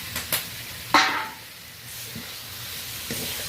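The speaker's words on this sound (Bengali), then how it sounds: "মশলার সাথে পটলগুলো ভালো করে নেড়ে চেড়ে নিচ্ছি" Lightly fried pointed gourd (potol) is stirred into cooked spice masala in a pan, giving a soft sizzle with a few scraping strokes and one sharper clack of a spoon.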